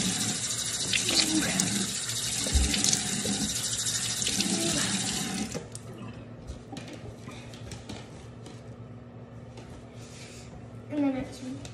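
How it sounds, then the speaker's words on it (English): Tap water running into a bathroom sink while rinsing a face, a steady splashing hiss for about five seconds that then stops, leaving quiet room sound and a brief voice near the end. "I just rinse my face off with some water"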